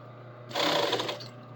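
A sewing machine runs a short burst stitching a sleeve seam, a quick buzzing whir that starts abruptly, holds for about half a second and fades, close and alone over a faint hum.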